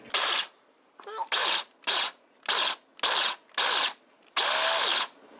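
A food processor pulses jalapeno, garlic and onion for salsa in a series of about eight short, loud whirring bursts separated by brief pauses, the last burst slightly longer.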